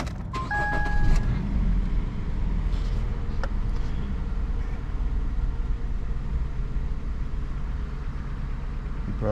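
A car bought at auction runs steadily as it pulls away for a short drive, with a constant, close engine and road rumble and a few faint clicks and beeps near the start.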